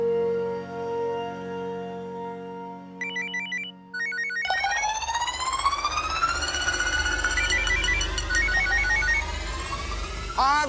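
A telephone ringtone plays clearly during a call, its rising electronic melody and repeated bell-like tones sounding loud and close over a steady background, with no talking over it.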